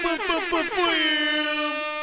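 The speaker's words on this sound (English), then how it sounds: "Steve, could you bring like a DJ horn, air horn in" A single loud air horn blast, a brassy wavering tone that settles into a steady sustained blare for about two seconds.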